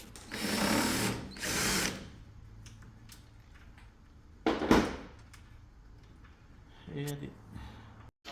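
A power drill whirs in two short bursts removing screws from an Ariston clothes dryer's back cover, followed by a louder brief burst and some clanks, with a low steady hum underneath.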